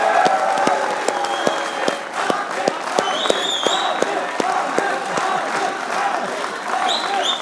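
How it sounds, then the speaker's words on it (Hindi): A studio audience at a Pakistani cricket talk show claps in dense, steady applause that keeps going for several seconds, with brief voices mixed in. "सबसे पहले तालियां होनी चाहिए"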